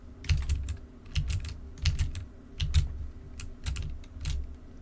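Several people type on computer keyboards during an online developer call, producing clustered bursts of close, crisp key clicks in an irregular rhythm with brief pauses, no speech.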